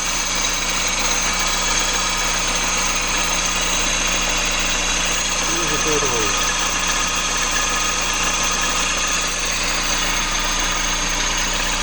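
A Peugeot 207 engine idles steadily up close, a continuous low hum with a faint whirring of belts, rollers and the turning water pump, no talking.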